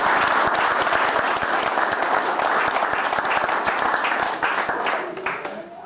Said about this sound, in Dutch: even uw applaus voor beide